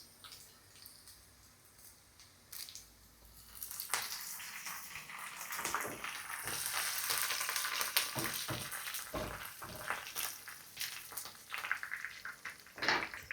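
Shallots, dried red chillies and curry leaves frying in oil make a loud crackling sizzle that swells in the middle and carries sharp pops and splutters near the end, with no talking.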